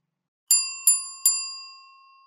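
Three quick bright bell dings, evenly spaced and close, ringing out and fading alone, like a notification chime.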